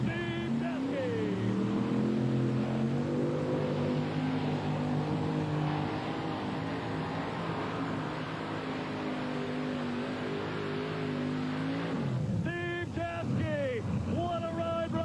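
Modified pulling tractor at an NTPA tractor pull in Hildreth, Nebraska: a sustained roaring, whining engine at full power with wind buffeting, then the revs drop off sharply and the engine sputters and winds down near the end.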